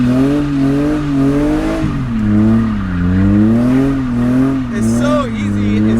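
1990 BMW E30 doing donuts, the engine loud and close with revs rising and falling in sweeping waves while the tires let out a squeal near the end.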